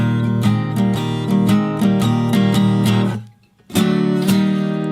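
Electric guitar plays a rhythmic shuffle-style solo with steady repeated chords, a brief pause near the end, then resumes loudly.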